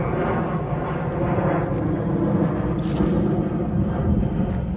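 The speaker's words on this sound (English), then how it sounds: "there's the reason why you can hear the planes" A low, continuous roar of airplanes passing overhead, broad and steady with no talking.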